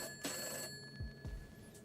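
Telephone ringing on a call in the video game Cat Detective, a couple of short ring bursts with a low thumping click between them, fairly quiet and with no talk over it.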